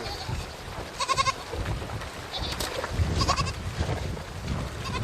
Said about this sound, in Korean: 겁에 질린 새끼 염소 한 마리가 남았습니다.